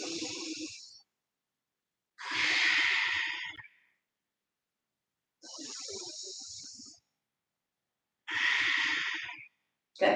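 Slow, deliberate breaths during a vinyasa yoga class: four long, airy inhales and exhales separated by short silences, close and clear, with no talking.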